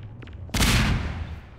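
Sudden burst of automated turret gunfire in Half-Life 2, a loud dense rattle of rapid shots erupting after a quiet moment and sustained to the end, with no talk over it.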